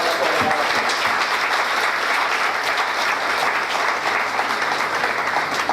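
A round of applause from an audience at a scholarship ceremony, loud continuous clapping that stays steady throughout.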